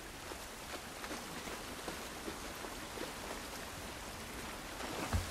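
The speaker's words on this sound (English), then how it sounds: "It's raining. The rain looks good." Rain falls steadily in the video game The Last of Us Part 1, a faint, even hiss with scattered soft patters throughout.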